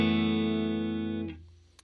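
A clean Fender Stratocaster played through a Twin Reverb amp rings out as a single sustained chord that decays evenly, then stops abruptly, leaving near silence.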